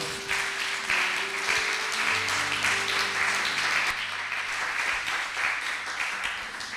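A church congregation bursts into sustained applause, a dense wash of clapping filling the room for several seconds, with a low sustained organ or keyboard chord sounding beneath it.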